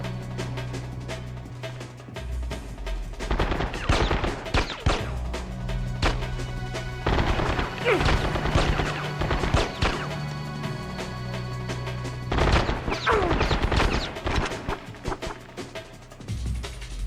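Pistol gunshots in the Rogue Ops game on PS2, a run of sharp, loud cracks spread across the span over a continuous game soundtrack, with clusters of shots near the middle and toward the end.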